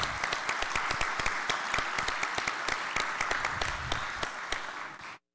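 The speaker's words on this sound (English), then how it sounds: "is very much deserving of an applause for her great work as chair" At the Communities in Bloom national and international awards ceremony, the audience applauds the board chair. Steady, full applause from many hands fills about five seconds and then cuts off abruptly.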